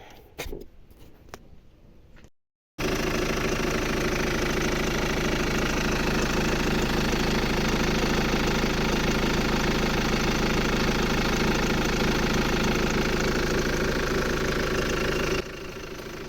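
Opel Frontera 2.2 engine running after its belt tensioner roller was replaced, starting after some handling noises and then idling loudly and steadily close by with a rough, slightly knocking drone.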